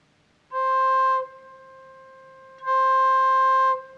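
A small viola pipe on a pipe organ sounds two sustained, bright, string-like notes, each held about a second with a pause between, clear and alone in a quiet room.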